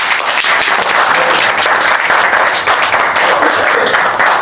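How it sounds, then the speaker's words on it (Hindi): A live audience gives loud, sustained applause at the end of a stage show, with dense clapping filling the whole stretch and no speech. "ज़ोरदार तालियां।"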